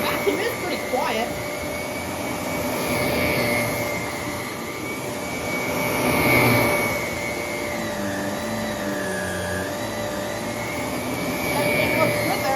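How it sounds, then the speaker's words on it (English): A canister vacuum cleaner running on carpet with its brush roll engaged, giving a steady, moderately quiet whine and hum that holds through the whole stretch with slight swells, while a person talks over it. "The vacuum is pretty quiet."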